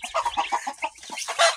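Laying hens clucking nearby on a farm in a quick, uneven series of short calls, with a louder squawk near the end.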